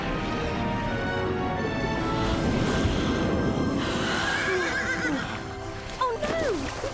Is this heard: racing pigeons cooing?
no